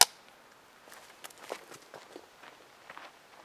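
A film clapperboard snaps shut with one sharp, close clack at the very start, followed by faint scattered footsteps and room shuffling on a film set.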